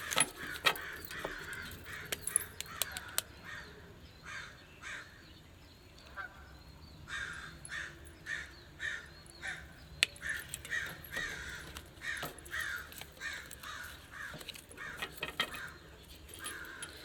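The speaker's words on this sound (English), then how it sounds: "The crows are yelling at an orange cat that's running down the hill." Crows caw repeatedly at an orange and white cat running down a hill, calls sharp and scattered, some near and some farther off, with brief pauses between outbursts.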